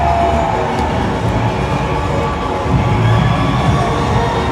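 Crowd cheering along the route of the NYC Pride March, a dense, loud, continuous roar of voices and shouts that swells slightly midway, with no distinct speech.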